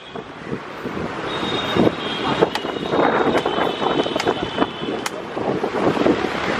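Strong wind gusts batter the microphone in a loud, continuous roar with rumbling buffets and a thin whistling tone partway through.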